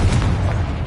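A Confringo blasting spell in the video game Hogwarts Legacy lands as a single deep, loud boom whose low rumble stays heavy for the whole moment, with no voices over it.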